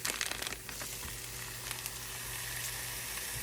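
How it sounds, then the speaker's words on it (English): Ground beef is dropped onto softened onions in a hot pan for ancho BBQ sloppy joes, starting with a few thuds and settling into a continuous, even sizzle close by. "So I'm gonna go ahead and add in the entire contents of my ground beef."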